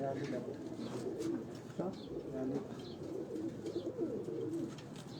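Pigeons kept on a rooftop coo softly in low, rolling calls under someone talking nearby, with faint chirps in the background.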